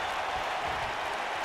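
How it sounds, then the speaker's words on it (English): Arena crowd in the wrestling game WWE 2K19, set in Las Vegas, Nevada, cheering and applauding as a steady, broad wash of noise throughout, fairly loud and even, with no voices standing out. "As the crowd then comes alive here in Las Vegas, Nevada"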